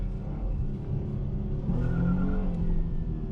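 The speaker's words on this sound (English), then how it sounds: "you can still kind of spin your tires even on a dry surface like this" A 2022 Dodge Charger GT with a V6 spinning its tires on dry pavement, a steady engine roar with a rising squealing tone in the middle, loud and close, with no talking.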